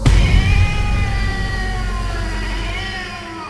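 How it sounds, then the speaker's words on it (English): A cat lets out one long, loud, drawn-out yowl, wavering in pitch as it fades over a few seconds, with a low rumble underneath. "then howled a fearful yowl"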